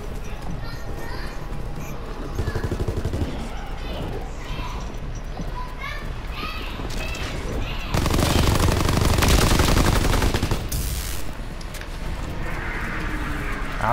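Rapid bursts of video-game gunfire rattle through the mix, swelling into a dense, loud barrage near the middle before easing off, with background game noise and occasional voices throughout.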